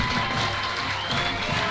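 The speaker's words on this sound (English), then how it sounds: "The Mustangs will take the field as the fans hit their feet and cheer" A crowd of high school football fans at a game cheers and applauds as the Mustangs take the field, a dense steady roar of clapping and shouting throughout.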